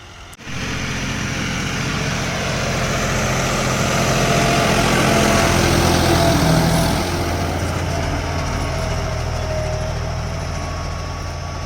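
A new tractor fresh from the dealership runs steadily in a farm field, its engine a loud, continuous low drone that swells slightly midway and holds for the whole stretch, with no talking over it.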